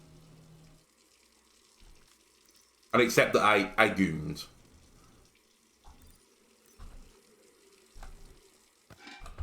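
Liquid pours out in a short gushing splash lasting about a second and a half in the Brewmaster beer brewing simulator game, loud against a quiet background, with someone speaking before and softer clicks following.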